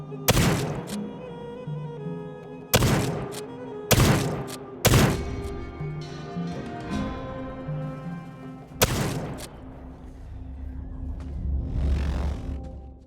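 Gunfire in an obscure RPG video game: several loud, punchy single shots at irregular intervals, each with a booming tail, followed by a low rumbling swell.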